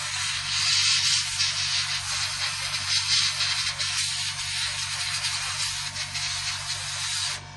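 Airbrush spray painting on a 1/32 Trumpeter Corsair model kit, a steady continuous hiss held for several seconds, close and fairly loud, with no talking.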